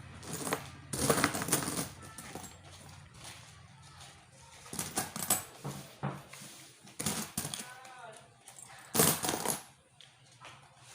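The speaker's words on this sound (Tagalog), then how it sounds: "I-transfer yung barya." Saved coins are transferred and counted, giving bursts of clinking and jingling metal against one another, with rustling and quieter gaps in between.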